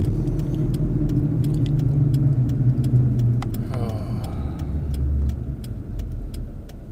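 Interior of a car moving through traffic, a steady low engine and road rumble from inside the cabin with faint ticking and a light rattle partway through, no voices.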